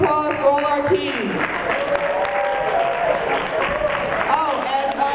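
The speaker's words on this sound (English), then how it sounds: "One more round of applause for all our teams." A convention panel audience claps for the competing teams at a build-your-own-superhero event in Hawaii, a sustained dense round of applause with some crowd voices and a few cheers mixed in.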